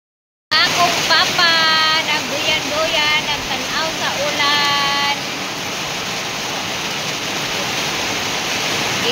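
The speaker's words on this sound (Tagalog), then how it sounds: "Thank you Lord for the rain." Heavy rain pours down steadily in a rural yard, a dense, continuous hiss that fills the whole clip, with people talking briefly over it near the start.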